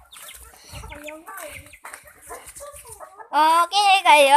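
A chicken squawks and clucks loudly and close by in a run of harsh bursts near the end, after a stretch of people talking on a farm during feeding time.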